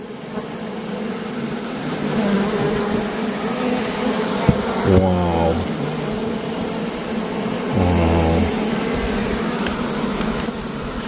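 Bees buzz steadily and loudly as they pour out of holes and crawl away, a dense close swarm hum throughout, with a person briefly exclaiming over it twice.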